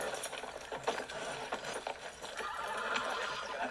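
Horses whinny and hooves clip-clop in a western film scene set in Tombstone, a busy, moderately loud mix of neighs and hoofbeats with no speech.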